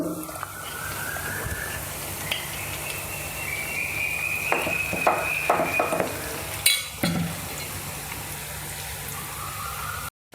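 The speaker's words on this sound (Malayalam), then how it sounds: "രണ്ട് ട്രിപ്പായിട്ടാണ് നമ്മൾ ഫ്രൈ ചെയ്യുന്നത്" Marinated chicken pieces deep-fry in hot oil for chilli chicken, with a continuous close sizzle, some bubbling, and a few clinks and scrapes of a utensil in the pan.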